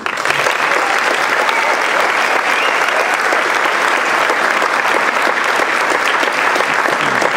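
Sustained, loud applause from an audience at a Coaches for Cancer benefit event, steady and dense throughout with a faint crowd murmur beneath.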